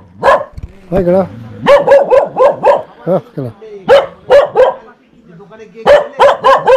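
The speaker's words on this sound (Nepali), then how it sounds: "कुकुरहरू कस्तो भएको छ?" Several dogs bark in short repeated bursts at a homestay cottage, close and loud, with a voice briefly speaking among the barks.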